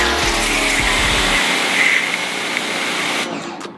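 A Teande pressure washer sprays at raised pressure, a loud broad hissing rush with the pump motor's low rumble cutting out partway through, then the spray fading near the end.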